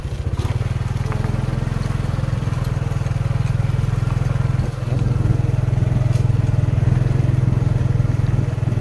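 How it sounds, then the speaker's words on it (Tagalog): A small motorcycle rolls slowly along a path beside a river near a school, its engine a steady low drone with faint clatter, close and continuous without pause. "Ang problema, maliit lang yung motor natin, kaya dahan-dahan lang tayo mga kabugoy"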